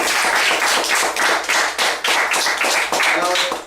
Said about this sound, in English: Congratulations, round of applause.